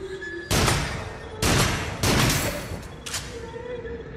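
Gunfire in the VR shooter Until Dawn: Rush of Blood: three loud, close blasts that each ring out and decay, followed by a quieter fourth shot, with no speech over them.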